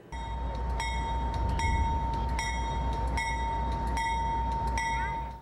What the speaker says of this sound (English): The Canadian Pacific Railway's holiday train rolled into Hamilton Monday night